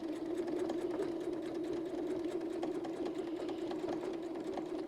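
A sewing machine quietly quilts around the outside of a mandala pattern using a rotating guide, with an even, continuous hum at moderate distance and no pauses.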